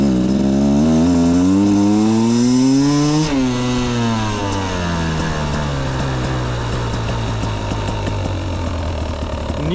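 A 2025 Beta XTrainer 250 two-stroke motorcycle does a second-gear roll-on, its buzzing engine rising in pitch and then backing off. It is loud and close, with the raspy two-stroke drone continuing after the throttle is eased.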